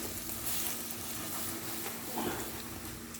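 An egg and minced-meat paratha frying in a pan, a steady close hiss of sizzling oil that holds an even level throughout with no talk.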